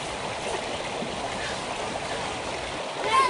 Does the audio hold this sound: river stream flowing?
yes